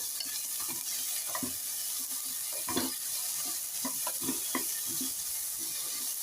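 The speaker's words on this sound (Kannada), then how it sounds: "ಈರುಳ್ಳಿನ ಹಿಂಗೆ ಸ್ವಲ್ಪ ರೋಸ್ಟ್ ಮಾಡಿದ್ರೆ ಸಾಕು" Finely chopped onion roasting in a pan for beetroot palya: an even, moderate sizzle with soft, irregular spatula scrapes and stirring strokes throughout.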